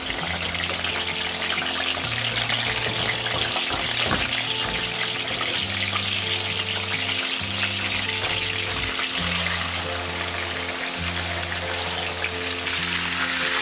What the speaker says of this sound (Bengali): এই গরম তেলের মধ্যে আমি ম্যারিনেট করা চিকেনগুলো ভেজে তুলব।